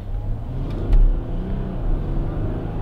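Inside a quiet 2021 Audi Q7 45 TDI quattro accelerating in comfort mode: a low, muted engine and road rumble that swells briefly, then settles to a soft steady hum.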